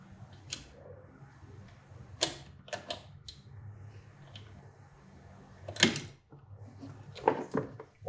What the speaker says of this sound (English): We need to pull the clutch cable off the clutch lever and out of the perch here.